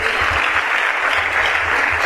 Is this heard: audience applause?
yes